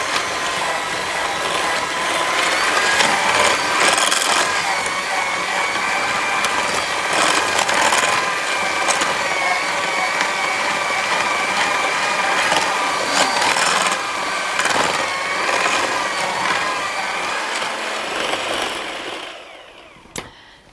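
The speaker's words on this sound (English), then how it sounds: "You probably need to give this about 1½ to 2 minutes whisking just to make sure it's all blended properly." An electric whisk beats a cake mixture in a bowl with a loud, continuous whirring drone and frequent clattering against the bowl, running for about twenty seconds before winding down.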